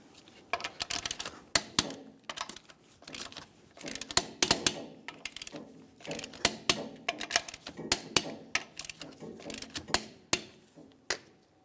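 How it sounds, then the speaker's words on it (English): Lug nuts on a 2002-2005 Ford Explorer rear wheel being tightened with a torque wrench, a series of sharp metallic ratcheting clicks in short bursts with pauses between nuts, close and fairly loud. "With the wheel back on the ground, let's torque these in a crisscross manner."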